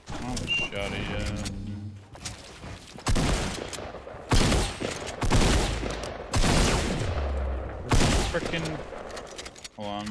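Fortnite gunfire in bursts of loud, sharp shots, including heavy shotgun blasts, arriving in clustered volleys with brief gaps, while a player talks over the action.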